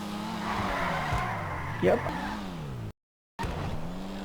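A Nissan 370Z Nismo on drift tires in GTA 5 slides through a drift, its engine droning steadily with a brief tire squeal midway and a short gap of silence. A voice speaks briefly.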